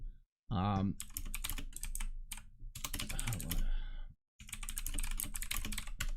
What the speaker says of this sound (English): I just did it because my keyboard is so fucking loud